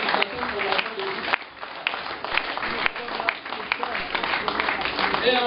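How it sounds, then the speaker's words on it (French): An audience at the launch ceremony of an education programme gives a round of applause for three honoured personalities. The clapping is steady and moderately loud, with faint voices mixed in. "je vous demande encore et toujours un grand vent d'applaudissements pour ces trois personnalités"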